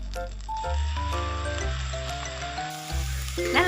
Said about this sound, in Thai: ผัดข้าวผัดเราจะใช้เป็นไฟแรงนะคะ